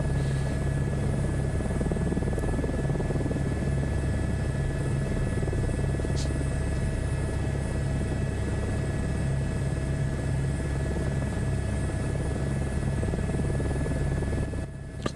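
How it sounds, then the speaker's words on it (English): Helicopter in a flight simulator game, a steady, loud turbine whine and rotor drone that holds evenly throughout with no talk. "I always find helicopters tricky."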